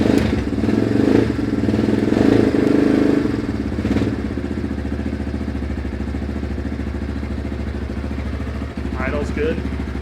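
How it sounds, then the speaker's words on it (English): A 2025 Apollo RFZ 250 Thunder dirt bike idles after a cold start on a warm winter day, its engine chugging loudly and evenly throughout with a brief dip near the end, while someone talks over it. "So pipe's cold, it's a cold start."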